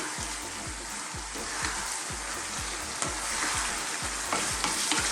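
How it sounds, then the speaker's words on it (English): Large cut white mushrooms tossed around a hot pan, sizzling continuously up close while a regular rhythm of stirring scrapes and knocks repeats across the whole stretch. "I'm just going to throw them around in the pan"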